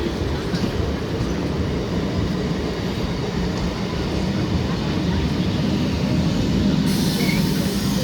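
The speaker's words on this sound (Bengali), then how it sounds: "up Howrah Bardhaman local train main line দিয়ে ব্যান্ডেল রেলওয়ে জাংশন অভিমুখে যাচ্ছে" An up Howrah–Bardhaman local train runs along the main line toward Bandel Junction, a loud, close, continuous rumble of wheels and carriages rolling past that holds steady for the whole stretch.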